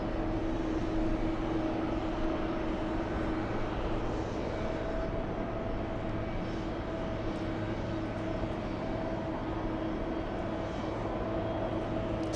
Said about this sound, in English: It's a 787-8 Boeing business jet heading to most likely Stuart.